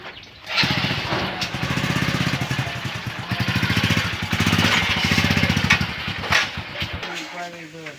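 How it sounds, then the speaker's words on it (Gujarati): A motorcycle engine sputters to life and runs with a rough, rapid, pulsing idle close by, then cuts out near the end. "લ્યો ભાઈ બાઈક હવે કાઢું છું"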